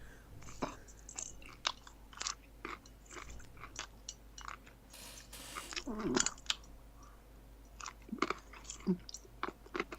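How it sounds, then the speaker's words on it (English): Wet, smacking chewing and crunchy biting close to the mic, in irregular bursts of mouth noises with brief pauses, with no clear talk over it. "Just chew with me."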